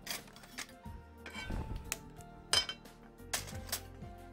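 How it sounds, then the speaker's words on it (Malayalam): A pan is set on a kitchen stove with a few close metallic clinks and knocks over a soft background, with no talking. "അപ്പോൾ ഞാനൊരു പാൻ അടുപ്പത്ത് വെക്കുകയാണ്"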